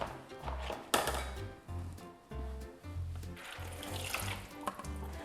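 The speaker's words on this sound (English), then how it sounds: "So now I'll use a simmering basket and drain off the water." Rinse water drains and splashes through a Thermomix simmering basket in a kitchen, a continuous watery trickle with occasional louder pours and faint clinks.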